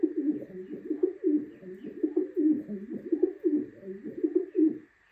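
A pet pigeon coos repeatedly and close by, its low throaty phrases rolling in a steady rhythm with a faint constant hum behind it.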